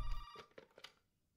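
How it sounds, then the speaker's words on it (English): A telephone rings in the horror video game Resident Evil 7, a bright electronic bell trill that starts loud and repeats in short pulses before cutting off into silence. "the phone will start ringing, which is the next trigger in the game."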